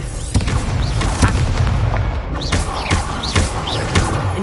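Repeated Incendio fire spells go off in the Hogwarts Legacy video game, a string of loud, close whooshing blasts and booming thuds that layer over a dense backdrop of game combat noise.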